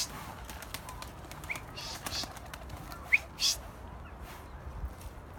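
Young pigeons take off with soft bursts of wing flapping and a few faint chirps over a quiet outdoor background, with no one speaking.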